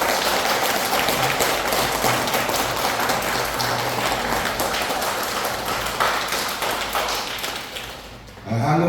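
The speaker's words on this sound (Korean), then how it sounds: "큰 박수 부탁드리겠습니다" A crowd claps at a Lions Club forum and inauguration ceremony in a large conference hall, a loud continuous patter of applause filling nearly nine seconds before tapering off at the end.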